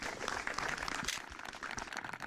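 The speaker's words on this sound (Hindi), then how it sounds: "तो एक बार फिर से जोरदार तालियां।" Studio audience claps for a farmer quiz-show winner receiving a cup on stage in Mathura, Uttar Pradesh, a lively burst of many hands close by that stays dense throughout.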